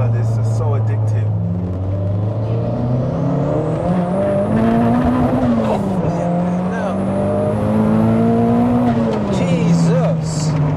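Toyota MR2 with a 2.2-litre stroker turbo engine, rear-wheel drive and about 510 bhp, revs hard through the gears, its loud interior drone climbing and dropping with each shift while occupants chat over it.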